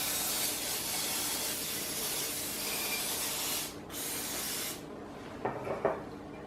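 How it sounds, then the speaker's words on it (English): Pam cooking spray hisses into a baking pan for a cat-shaped cake: one long, steady, close spray that stops briefly, resumes, then cuts off, followed by a few light taps. "We're just gonna be spraying that in."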